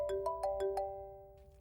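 A phone ringtone sounds for an incoming call, a quick run of five bright tonal beeps that then fades out, fairly quiet and alone.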